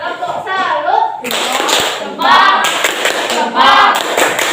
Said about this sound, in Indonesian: Kita beri tepuk salut.